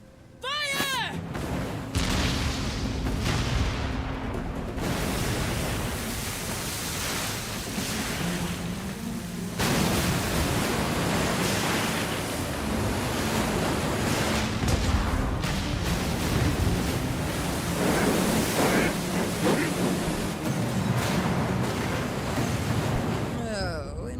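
Pirate ship cannons firing in a video game: heavy booms and rumbling blasts repeat over a steady wash of ocean surf, loud and continuous throughout.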